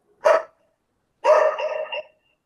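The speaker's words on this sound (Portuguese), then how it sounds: "Tem um cachorrinho aí fazendo uau" A small dog barks twice, a short yap followed by a longer, wavering bark about a second later, fairly clear and close with no talk.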